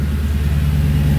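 A Toyota Tundra pickup truck's engine idles low and steady as the truck is moved, a deep, close, continuous rumble with no talking.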